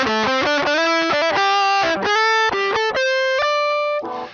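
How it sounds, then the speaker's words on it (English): Electric guitar driven through a Boss Metal Zone distortion pedal into two amps, a loud, dry, heavily saturated tone playing chopped chords and sustained notes with short gaps, ending on a brief muted strum. "put the metal zone between the guitar and the two amps to give me a heavily driven dry tone"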